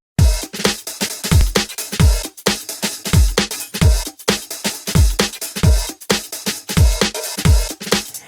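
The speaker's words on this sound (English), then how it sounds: "So it sounds like this kick has a bigger, kind of more consistent low end" Punchy kick drum in a full mix, processed with a Waves Pultec EQ plugin, thumping in a steady driving pattern with a heavy, consistent low end under dense cymbals and music, loud and close.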